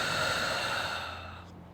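A deep, slow exhale during yoga practice, a long breathy rush of air that starts strong and gradually fades away over under two seconds, heard close and alone.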